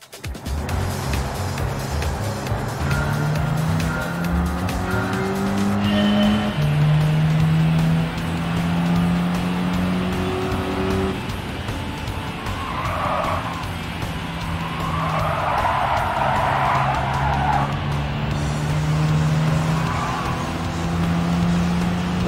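Race cars in Gran Turismo 7 at the Goodwood Motor Circuit during a European classic compact car race, engines droning loudly with rising and falling pitch as gears shift, plus bursts of tire squeal, no talk.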